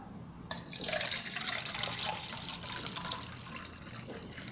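Water poured into a drinking glass during a classroom science demonstration, a steady bright splashing stream that swells in the first two seconds and then settles into a softer trickle, heard alone without talk.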